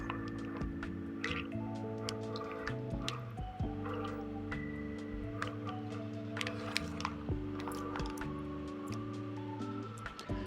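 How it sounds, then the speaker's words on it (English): Thin batter mixture pours from a bag into a pan in a soft, continuous liquid trickle with small drips and squishes, quiet and close, under steady tonal background sound. "really carefully, we're now going to pour this mixture"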